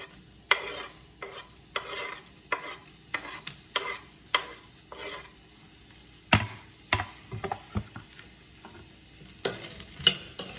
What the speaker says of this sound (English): Now I'm going to add chopped onions and 1 serrano chili chopped.